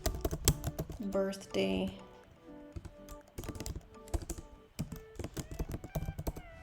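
Keys clatter in quick uneven bursts on a computer keyboard while text for a Halloween birthday cookie wrapper is typed into Silhouette Studio, with someone talking over the clicks.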